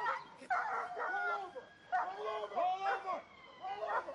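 A police dog yelps and barks in repeated whining bursts during an arrest outdoors, loud and close, with officers shouting over it.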